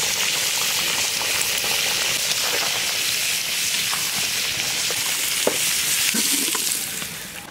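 Potatoes sautéing in hot oil for a Bengali fish curry with rohu, a steady close sizzle and crackle of frying with occasional stirring clinks, continuous throughout with no talk.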